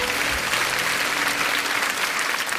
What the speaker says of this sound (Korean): 우리 하나님께 큰 박수 올려 돌리십시다